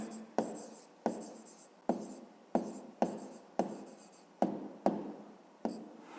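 Pen or pencil writing by hand in a math exercise book, a quiet scratching made up of eight or so distinct strokes in a steady rhythm, close up, with no talking.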